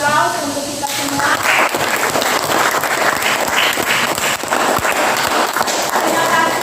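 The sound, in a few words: classroom applause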